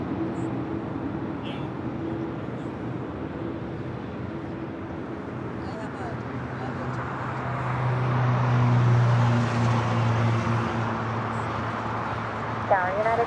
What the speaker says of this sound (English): Next arrival on the north side, on the Pond Airways 787 9 Dreamliner, Flight 6,